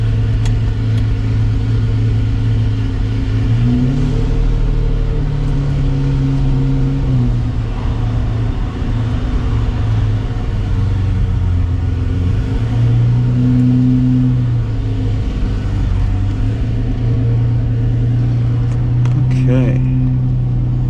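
A 1987 Ferrari Testarossa engine runs loud and steady up close, its deep rumble swelling through several revs and shifts as the car drives along.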